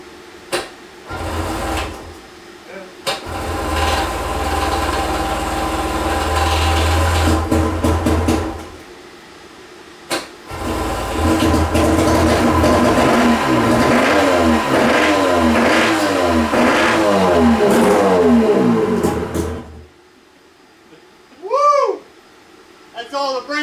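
A rebuilt Seadoo XP 744cc jet ski engine fires up and runs loud and rough, with bursts of revving and pauses between runs, then cuts out to near silence with a couple of faint voices at the end.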